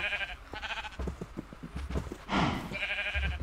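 Cows in the video game Minecraft, short bleating calls over soft repeated footstep taps, fairly close, with no talk.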